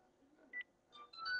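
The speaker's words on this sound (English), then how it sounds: "Now I'm calling my boy Emma. I'm calling him" A telephone dialing a call, a few short electronic tone beeps in quick succession, faint and close with no talk over them.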